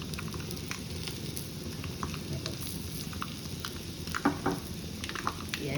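Asafoetida and dried red chilies frying in a small pan of hot oil as a tempering for rasam, a soft, steady close sizzle with faint crackles and a few light pops, no talking.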